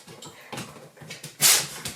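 Several dogs whimper and snuffle close by in a yoga practice space, with soft uneven bursts and one sharper high whine near the end.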